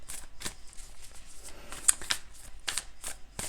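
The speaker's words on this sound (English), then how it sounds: "while I lay the cards out" Tarot cards being laid out on a surface, a series of soft, separate slaps and papery flicks spaced irregularly, close and fairly quiet, with no speech.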